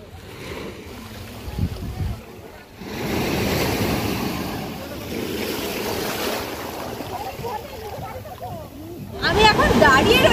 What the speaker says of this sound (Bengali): এখানকার ঢেউগুলো সত্যিই অনেক বড়, মানে খুবই দারুণ লাগছে, ঢেউয়ের গর্জন কিন্তু বেশ ভালো লাগছে।